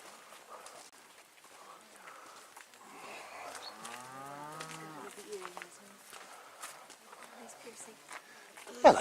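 A cow lows on a roadside patch of damaged woodland, one drawn-out moo rising and falling near the middle, with faint rustling and a sharp knock at the end.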